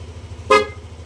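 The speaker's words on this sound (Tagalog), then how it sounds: "ito yung stock na busina" A single short, thin stock horn beep from a Yamaha Aerox scooter sounds once over a steady engine idle.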